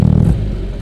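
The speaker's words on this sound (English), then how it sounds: "It's got a different exhaust on, but I'm not quite sure what. I think it's sort of custom made exhaust" A Classic Mini fitted with a custom-made exhaust gives a brief, loud, rumbling rev with a clattering low-end pulse at the start that quickly eases.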